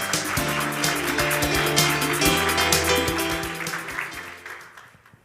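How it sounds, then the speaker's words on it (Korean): Loud, dense applause from a large audience welcoming a member of the National Assembly at an entrance ceremony for a security-leader training program, sustained throughout with steady background music, then tapering off near the end. "다시 한번 큰 박수로 의원님을 환영해 주시기 바랍니다."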